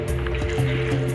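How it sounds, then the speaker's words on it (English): Hot water pours from a container onto cabbage in a cooking pot in an African village kitchen, making a steady liquid gush with small splashes. No one speaks. "First, I'm adding in water"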